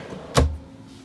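A single short wooden thunk with a brief slide as a large drawer in a 2020 Forest River Rockwood Geo Pro 19QB travel trailer is pushed shut, alone in a quiet room.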